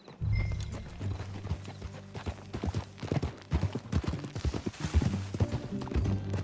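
Horse hooves clip-clop steadily in Red Dead Redemption 2, a rhythmic series of close, clear footfalls at riding pace, with the occasional snort and no talk.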